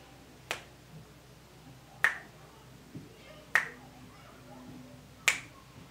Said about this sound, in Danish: Hver gang jeg knipser